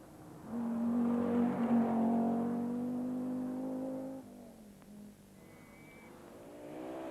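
An Audi Quattro rally car on the RAC Rally, its engine revving hard as it nears and passes, the tone rising and then dropping away into a faint fading drone.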